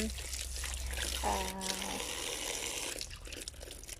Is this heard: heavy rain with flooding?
no